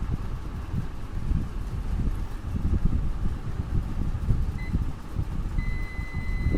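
A multimeter emits its continuity beep as the probes touch a transformer coil: a steady, thin electronic tone that starts partway through and holds, moderately loud over a hissy room background, with no talking.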